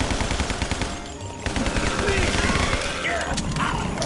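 Tommy gun firing in a zombie gang shooter game, loud sustained automatic bursts rattling close by with a brief pause, while players talk over it.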